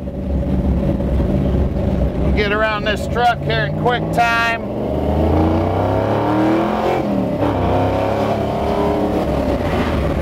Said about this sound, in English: listen to that exhaust purr